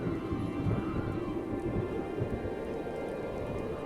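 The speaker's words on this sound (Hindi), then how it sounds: "बादल जोर से गरजते हैं।" Thunder rumbles low and deep during a storm under dark, heavy clouds, mixed with a steady wash of falling rain and no voices.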